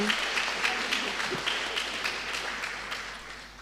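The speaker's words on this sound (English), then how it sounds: "these applause go to them" At the closing ceremony of the Flahertiana documentary film festival, an audience claps for the organizers, with lively applause and a few distinct claps that gradually fade toward the end.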